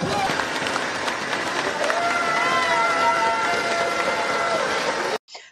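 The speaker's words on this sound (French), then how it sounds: "Est-ce qu'on peut applaudir pour eux, s'il vous plaît?" Outdoor crowd at a chicken cooking contest during a 15 August festival in Pointe-Noire, Congo, applauding steadily with cheers and whistles over the clapping, then cutting off abruptly after about five seconds.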